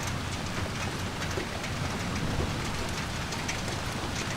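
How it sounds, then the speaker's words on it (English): Steady, dense rainfall in Japan pattering continuously, a broad hiss with scattered drops, close and fairly loud throughout. "It's raining."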